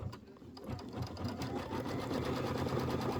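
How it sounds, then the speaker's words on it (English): Steady continuous hum of a sewing machine running an automated quilting pattern on an autumn quilt block, the rapid stitching building slightly in loudness and holding alone without talk. "Go ahead and hit your start button. And then we'll do the quilting."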